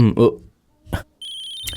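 A telephone rings in a quiet room, a bright electronic trill starting after a short spoken exchange and a thump, sustained and fairly loud through the end.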